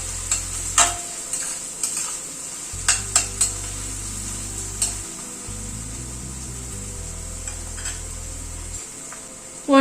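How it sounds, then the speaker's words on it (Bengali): Garlic frying with onion in oil in a pan, a steady close sizzle with repeated stirring scrapes and light clinks of a utensil against the pan throughout. "রসুনটাও একটু পেঁয়াজের সাথে ভেজে নেব।"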